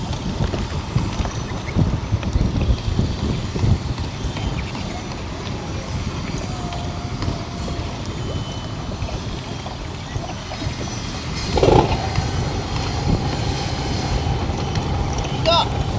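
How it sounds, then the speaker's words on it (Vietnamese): The engine of a Vietnamese timber boat roars as a steady low rumble, mixed with wind buffeting the microphone, while people talk over it and a louder surge comes near the end. "Chuẩn bị nghe tiếng gầm rú của động cơ nha"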